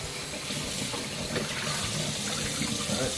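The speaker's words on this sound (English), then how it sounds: "we finished washing the oxtail with the vinegar and lemon" Oxtail being washed with vinegar and lemon under running water, a steady close rush of tap water with splashing as the meat is handled in the sink.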